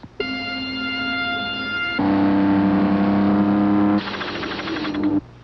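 Formula One racing cars from a 1987 Grand Prix in Adelaide scream past with steady high-pitched engine whines that change pitch in stages, loud and close, with no talk.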